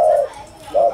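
A spotted dove decoy used for trapping coos twice, a low hollow call at the start and again near the end with a quiet gap between, close and fairly clear.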